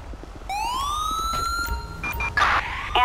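Ambulance siren in the video game Grand Theft Auto V, a loud rising wail that climbs and holds over about three seconds, followed by sharper electronic yelps near the end.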